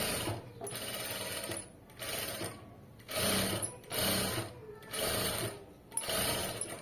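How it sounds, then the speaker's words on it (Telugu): A sewing machine runs in repeated bursts of about a second each, stitching along a blue printed fabric border. Short pauses separate the bursts, and the whirring is steady and fairly close. "ఇలా నీట్గా స్టిచ్ చేసుకుంటూ వెళ్ళిపోవాలి సాగరీయకూడదు"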